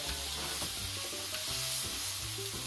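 Chuck roast sears in a hot pan with a steady, close sizzle of fat and crackling spatter, marked by a few sharper pops, with no voices.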